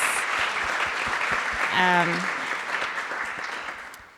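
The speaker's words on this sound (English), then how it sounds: "I would like that we applause to her" An audience at an academic conference closing ceremony applauds in a sustained, moderately loud wash of clapping, with a voice briefly heard over it before it fades.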